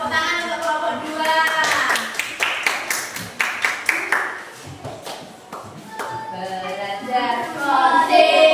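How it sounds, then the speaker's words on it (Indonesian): Classroom clapping for a student group, sharp scattered handclaps in bursts mixed with children's voices and singing, fairly close and lively. "Beri tepuk tangan untuk kelompok 2."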